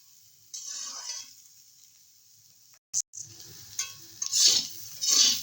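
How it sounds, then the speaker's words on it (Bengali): Prawn heads fry in a little oil on a low flame with a soft sizzle, broken by a sharp clink and then stirring scrapes that grow louder toward the end, close by and without talk. "আঁচটা কমিয়ে নেড়ে চেড়ে ভেজে নেব পাঁচ ছ মিনিটের মতো"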